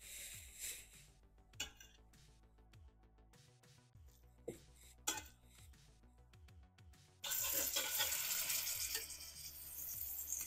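Hamburger steaks dropped into a hot pan, with scattered taps and clinks followed by a sudden loud, steady sizzle that continues to the end.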